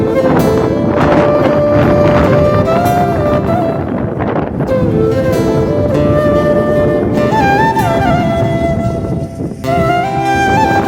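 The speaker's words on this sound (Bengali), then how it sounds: "আর প্রচুর পরিমাণে হাওয়া দিচ্ছে" Strong wind blows steadily across an open village field in the late afternoon, roaring loudly against the microphone throughout with shifting tonal whistles layered on top.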